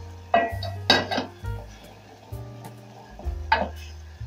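A utensil stirs chili sauce in a pot, sounding as distinct metallic scrapes and clinks in an irregular rhythm over a faint simmer, with brief quiet gaps between strokes.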